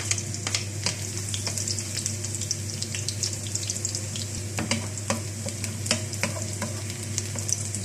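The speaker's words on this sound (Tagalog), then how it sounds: "Ayan, mainit na ang mantika. Ilalagay ko na ang garlic" Garlic sizzling in hot oil in a pan, a steady crackling fry with scattered sharp pops and stirring scrapes, close and continuous under a low hum, with no talking.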